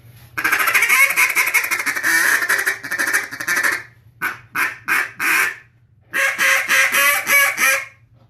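A softer-toned duck call blown up close: a long raspy quacking run, a few short separate quacks, then a fast rhythmic burst of quacks, with no talking.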